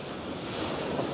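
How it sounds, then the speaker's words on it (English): Strong cool breeze sweeping across Anjuna Beach in Goa, a steady broadband rush of wind buffeting the microphone over the wash of surf, loud and continuous without a break. "there is like a strong, cool breeze on the beach."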